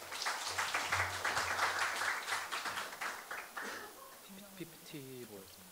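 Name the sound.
audience applause welcoming a speaker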